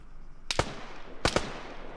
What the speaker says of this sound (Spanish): Vale, escucho los tiros